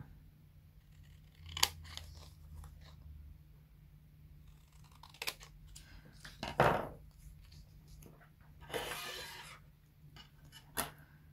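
Scissors snipping paper scraps, a few separate close cuts with quiet pauses between them and light handling rustle, with no talk.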